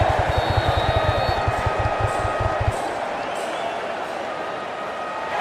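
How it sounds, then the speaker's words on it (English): Stadium crowd in the video game Cricket 24 as players walk out, a loud steady roar of cheering and applause, with rhythmic low thumps in the first half that then fade out under the crowd noise. "it's a loud crowd as the players make their way out."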